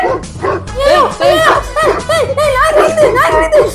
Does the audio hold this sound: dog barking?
yes